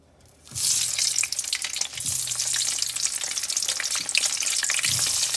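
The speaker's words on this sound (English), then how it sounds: "just keep a pan on the stove and add oil, and once it is hot enough, just put this eggplant carefully" Eggplant dropped into hot oil in a pan for deep-frying, bursting into a loud, dense crackling sizzle after a brief quiet start, continuing steadily and close with a few low thumps.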